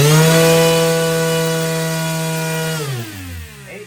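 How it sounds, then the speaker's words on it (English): An RC motor spins a 10-inch three-blade 3D printed fixed propeller on a thrust test, a loud, steady, buzzing whine that drops sharply in pitch near the end as it spins down, no voices. "The 10-inch 3-blade 3D printed fixed propeller."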